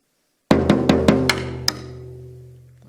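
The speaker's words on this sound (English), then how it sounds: "we're going to be having the drum rhythm that goes along with pepperoni pizza" A drum struck in a quick rhythm, four hits on the head then two on the side, six sharp close strikes with a ringing low tone that fades after the last.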